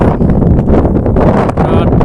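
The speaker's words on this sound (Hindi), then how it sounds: "कितना अच्छा हवा चल रहा है" Outdoor wind on a walk near a highway market buffets the microphone in a loud, steady rush and rumble, with voices faintly under it.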